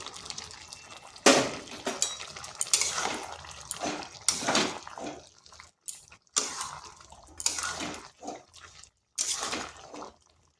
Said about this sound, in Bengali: এরপর দিয়ে দিচ্ছি চিংড়ি মাছগুলো